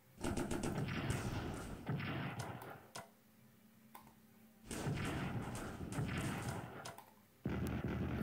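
Enemy artillery fire in the WW1 strategy game Strategic Command, heard as two long bursts of loud, dense thumping booms separated by a quieter lull, with no talking over them.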